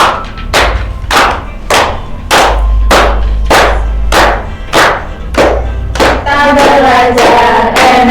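A microteaching class in a primary teacher-training program claps along in steady, loud unison about twice per second, with a low thumping beat under it and voices swelling into singing near the end.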